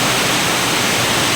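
Heavy rain pours down steadily, a loud, dense, unbroken hiss of downpour close by, with no other sounds breaking through.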